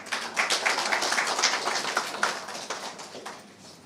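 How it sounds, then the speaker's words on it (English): An audience claps at a speech event, producing a dense patter of many hands that is moderately loud and fairly even before easing off toward the end. No speech is heard. "I want a round of applause for that."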